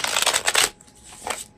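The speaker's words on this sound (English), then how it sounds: "So I'm shuffling a supportive card here" Tarot cards from the Animal Wise Tarot deck being shuffled by hand, a dense riffling burst for over half a second followed by a softer second flutter, close and fairly quiet with no talking.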